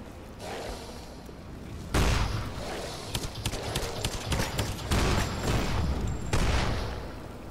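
Gunfire rattles in the video game Lara Croft and the Temple of Osiris, with a heavy blast at about two seconds followed by clusters of rapid sharp shots and repeated bursts over a steady background.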